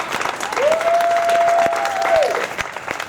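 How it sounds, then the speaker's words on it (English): A crowd at a street march against gentrification in Barrio Hollywood claps warmly and steadily, with a sustained whistle rising above the dense applause before it tapers off. "make sure we give him a warm applause"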